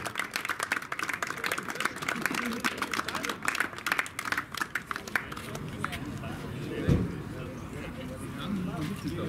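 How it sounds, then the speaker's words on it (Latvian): An audience claps for the fastest women at a Minišoseja racing awards ceremony at the Biķernieki track, a dense patter of applause in the first several seconds that fades out while an announcer keeps talking. "Vēlreiz aplausi ātrākajām dāmām"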